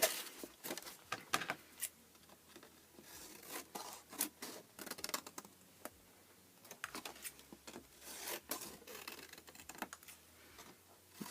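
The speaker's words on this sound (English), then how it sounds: "we're going to cut off just a chunk there" Scissors cut a chunk off a cardboard panel for a 4' x 4' cubed box with a lid: a close run of quick snips and crisp crackles, clustered in bursts with short gaps between them.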